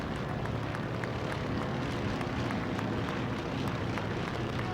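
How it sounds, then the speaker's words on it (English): Three vintage biplanes, a Waco and two Stearmans, pass overhead during an Armed Forces Day parade in Torrance, giving a steady, fairly loud radial-engine drone without letup. "we have a vintage flight, 3 biplanes, 1 Waco and 2 Stearmans passing overhead right now"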